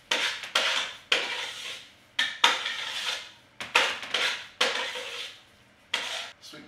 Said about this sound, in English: mix that with a spoon now